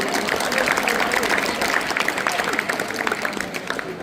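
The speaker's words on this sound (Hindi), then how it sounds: "एक बार तालियां तो सभी के लिए बनती है" Crowd applause for children and guests at a Veer Bal Diwas speech event, steady clapping over about four seconds with voices audible underneath.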